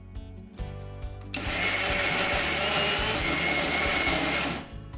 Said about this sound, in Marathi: आता ह्याच्यातला अर्धा अर्धा करून आपण हे मिक्सरमधनं करून घेऊ.